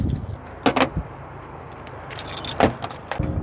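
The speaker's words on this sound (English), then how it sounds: "Then of course we have to unlock our trailer tongue lock here." Keys jangle and a metal lock on a teardrop trailer tongue clicks and rattles in two short bursts outdoors, close and fairly loud against a quiet background.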